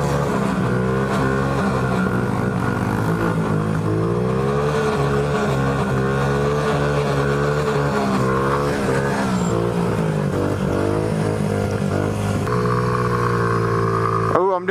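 A car in a video game spins circle burnouts, its engine holding a loud, wavering rev with tire squeal layered in, sustained and close, while a voice talks over parts of it.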